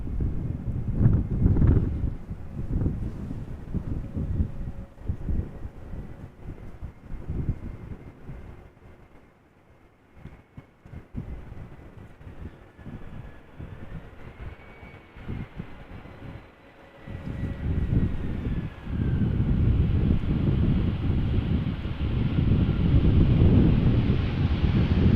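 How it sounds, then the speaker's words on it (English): Wind buffeting a microphone outdoors at Amsterdam Schiphol Airport on a showery day, loud gusty rumble that eases midway and then picks up strongly again, with no talk. "It does feel like wind is picking up again."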